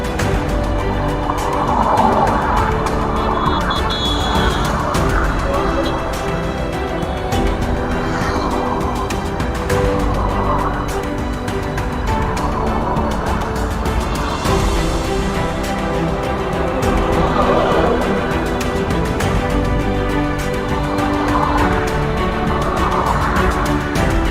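Busy road traffic with vehicles passing continuously, a loud, steady roar of engines and tyres with occasional louder swells as nearer vehicles go by.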